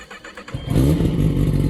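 A 2021 Kawasaki Ninja ZX10R motorcycle engine fires up after a short quiet start, settling into a loud, steady idle rumble close by.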